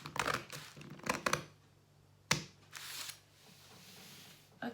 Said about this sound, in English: I've cut it, so I'm going to cut it out completely first